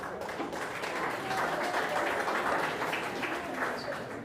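An awards ceremony crowd applauds in a steady, moderate wash of clapping that carries on evenly throughout, heard from some distance in a large space.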